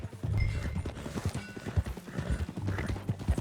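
Horse hooves clip-clopping in a steady galloping rhythm while riding in Red Dead Redemption 2, close and fairly loud, with a brief whinny and no talking.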